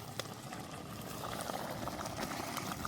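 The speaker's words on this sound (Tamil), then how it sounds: "பாலும் நல்லா கொதிச்சுண்டா சரி" Raw jackfruit curry with milk bubbles in a pot, a steady, close, continuous simmering burble with small pops across the whole stretch and no voices.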